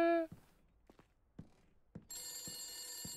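An old-fashioned telephone rings in the 1970s-style house of the horror game The Beast Inside, a loud ring at the start and again at the end, with scattered footsteps between.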